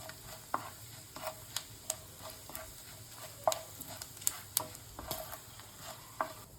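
Bay leaves, cardamom, cloves and cumin frying in hot oil, a soft steady sizzle broken by sharp spatters and repeated stirring taps against the pan, quiet and close.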